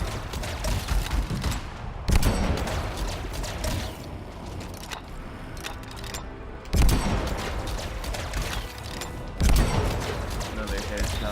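Rapid gunfire while shooting enemies in the video game Anthem, an Interceptor build, with dense repeated shots and sharp bursts over about eleven seconds, game effects running underneath and a player talking over it.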